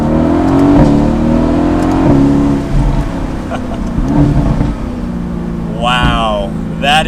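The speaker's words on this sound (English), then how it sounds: "So let's see what that exhaust sounds like now." A 2018 Mercedes-AMG GT C Roadster V8 is revved up and down, with loud exhaust swells rising and falling in repeated bursts, close by, with a sharp high whine near the end.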